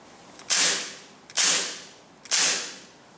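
Three evenly spaced, sharp shots from a KSC M93R airsoft pistol fired in semi-auto, each a crisp mechanical snap with a short hissing decay, close and loud with no talking.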